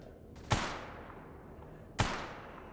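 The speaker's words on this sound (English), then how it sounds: "Oh, I hear the gunshots." Two sharp gunshots ring out about a second and a half apart in the STALKER video game, each a hard crack trailing into a decaying echo, with a faint background hum between them.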